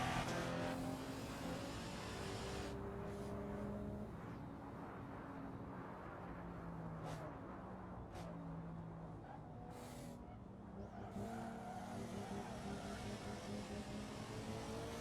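Car engine droning steadily on a Japanese highway in a driving video game featuring a Porsche and a Toyota Supra, continuous and loud with a shifting tone throughout.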